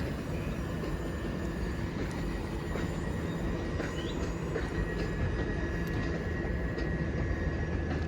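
Class 377 electric train pulling out of Clapham Junction, a steady broadband rumble of wheels on rail with faint metallic squeals, held at a constant level throughout.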